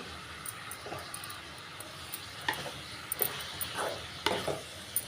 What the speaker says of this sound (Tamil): சேர்த்துட்டு நல்லா மிக்ஸ் பண்ணி விட்டுக்கலாங்க